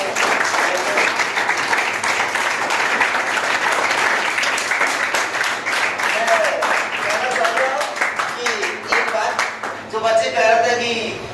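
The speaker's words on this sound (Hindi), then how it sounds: "एक बार जोरदार तालियां।" Loud, sustained applause from an audience at a coaching institute's honouring ceremony in Nawalgarh, dense clapping throughout that thins toward the end as voices and cheers rise beneath it.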